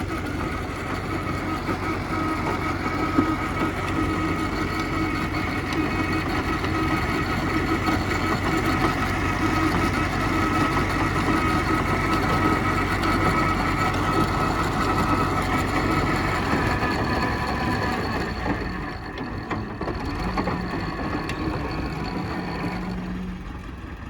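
An MTZ 892 tractor's diesel engine runs steadily and close for the whole stretch, a constant mid-pitched rumble on a frosty morning while hauling manure, briefly easing and shifting in tone toward the end.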